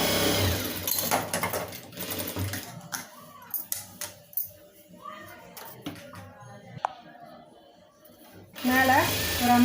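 A sewing machine stitches a lining blouse sleeve in fast, rattling bursts at the start and end, with a voice talking during the quieter middle stretch.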